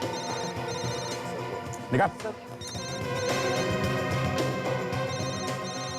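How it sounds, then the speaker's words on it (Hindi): A mobile phone rings through a tense interrogation scene in a Hindi crime drama, its tonal ring steady beneath background music and a voice speaking over it. "फोन उठाओ।"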